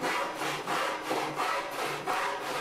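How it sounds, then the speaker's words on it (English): A hand saw cross-cuts a Western red cedar board at a saw bench, making about five steady, rhythmic back-and-forth rasping strokes, close and clear with no talking. "Go over to the saw bench and just make one cross cut."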